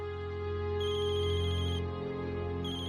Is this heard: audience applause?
no